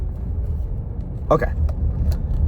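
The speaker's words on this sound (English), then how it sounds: "I'm driving a car right now." A car drives along with a steady, low engine and road rumble heard from inside the cabin, and a person speaks briefly over it.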